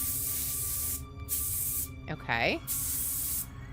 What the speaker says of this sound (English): Let's put the beard on and spray paint it.